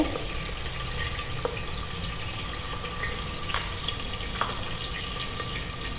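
Finely chopped onions frying in a pan with chillies and a bay leaf, giving a steady, even hiss of sizzling oil with a few faint pops and clicks, close up and continuous throughout.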